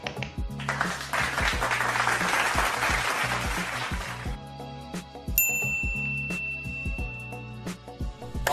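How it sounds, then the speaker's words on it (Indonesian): A studio audience on an Indonesian talk show claps for about four seconds, then the clapping stops and bright bell dings and chime-like sound effects ring out over a low rhythmic thumping. "Tolong tepuk tangannya dulu buat orang-orang yang ngedit ini"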